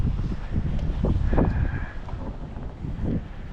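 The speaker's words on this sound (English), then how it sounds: "here's that darn wind again" Outdoor wind buffeting a microphone near the water, a steady low rumbling roar that swells and eases in gusts across the whole stretch, with no talking.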